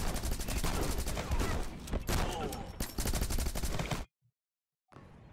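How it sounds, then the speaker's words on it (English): Rapid shotgun blasts crackle in the Rocketbirds: Hardboiled Chicken video game, a dense, loud string of shots for about four seconds. The shots cut to silence, then fainter game sound returns. "A shotgun is such a great weapon."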